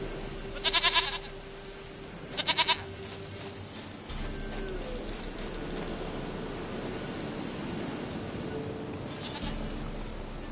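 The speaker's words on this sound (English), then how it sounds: "Goat of mine, dearest, sweetest goat" Goat bleats in Witcher 3, two short wavering cries near the start and a fainter third one near the end, set against a steady low ambient hum and background noise.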